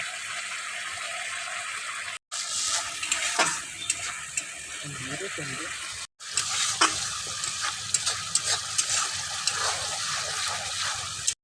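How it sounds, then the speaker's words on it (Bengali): Spices with tomato paste, salt and turmeric being sautéed in a pan for a fish dish, a steady sizzle with repeated scraping stirs and utensil clatter, close, interrupted by two brief silent breaks. "বন্ধুরা ভালো করে মশলাটাকে কষাতে হবে থাকে ভালো করে কষিয়ে নিতে হবে যাতে কাঁচা গন্ধটা না থাকে"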